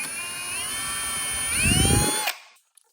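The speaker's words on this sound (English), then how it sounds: "So I'm just going to drill my pilot hole." A power drill drilling a pilot hole for a drawer slide whines steadily at high speed, bites into material with a grinding surge, then winds down and stops, leaving a couple of faint clicks.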